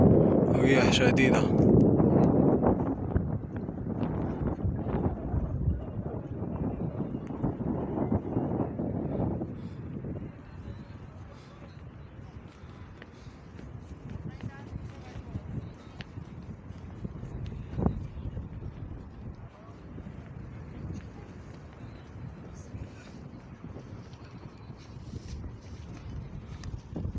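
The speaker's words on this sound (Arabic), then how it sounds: "رياح شديدة" Strong wind blows across Jabal al-Nour near Hira cave above Mecca, buffeting the microphone with a continuous rushing roar that is loudest early on, while someone talks intermittently.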